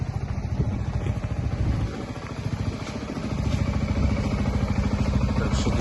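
Suzuki Skywave 250 Type M scooter engine running steadily at close range, a continuous low mechanical hum with light clatter and no speech.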